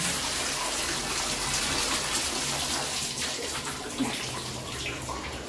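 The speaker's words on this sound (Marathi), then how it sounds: "नळ बंद कर" Steady broadband rush of water pouring from a kitchen tap, continuous and fairly loud throughout, with a small clink near the end.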